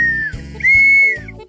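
A cartoon whistle blown in two bright, sustained toots, the second longer and slightly bending in pitch, loud and alone with no talking.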